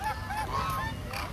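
Ducks at a zoo in Karachi honk repeatedly in loud, nasal calls, a few overlapping near and far, with no talking over them.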